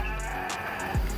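A goat bleats briefly on a farm at an agritourism villa at Gunung Geulis, a short nasal call amid quiet outdoor background noise with a low rumble, no speech.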